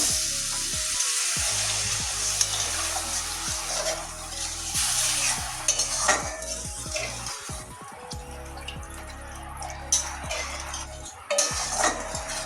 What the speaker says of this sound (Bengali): এবারে জল দিয়ে দিচ্ছি পরিমাণ মতো